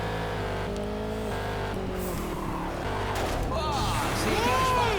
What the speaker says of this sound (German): Wagen 5 gibt Vollgas und holt einen Platz auf.